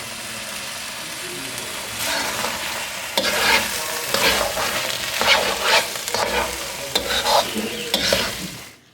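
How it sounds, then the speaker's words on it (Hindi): Carrot halwa (gajar ka halwa) roasting in a pan, with loud rhythmic scraping stir strokes over a soft sizzle and a faint low rumble in the background, close up with no talking. "अब 3 से 4 मिनट इसको भून के मैं इसको फाइनल करती हूँ।"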